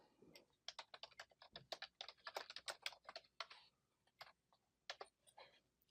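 Quick bursts of typing on a computer keyboard, close and crisp, with irregular clusters of keystrokes and brief pauses between them.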